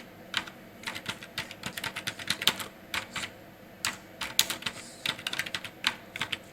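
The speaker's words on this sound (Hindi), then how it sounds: "तो मैं यहाँ पे नरेशन को टाइप कर लेता हूँ, being stationery purchase on credit." Someone types on a computer keyboard, entering a narration into Tally Prime accounting software: irregular quick bursts of close, crisp keystrokes with short pauses and no speech.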